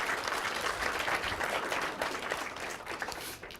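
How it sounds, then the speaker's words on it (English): Audience at a tech talk giving volunteers a round of applause: a thick, steady burst of clapping, fairly loud and even, tapering slightly at the end. "Can you give our volunteers a round of applause?"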